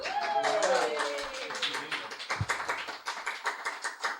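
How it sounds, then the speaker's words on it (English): A small audience applauds a speaker at an indoor talk, quick scattered clapping that starts under a lingering voice and continues in uneven bursts, fairly faint. "can you guys give a little bit of a round of applause for Debbie?"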